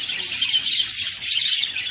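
Budgie parrots and their chicks in a breeding colony chirp continuously and densely, many bright overlapping tweets close by with no talking.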